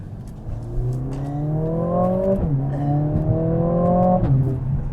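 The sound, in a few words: Mercedes-AMG CLA 45 engine revving and exhaust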